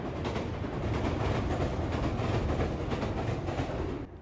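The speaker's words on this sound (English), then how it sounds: "One second, another train." A train passes close by outdoors with a dense, steady rumble and rattling clatter that holds for several seconds and then begins to ease off.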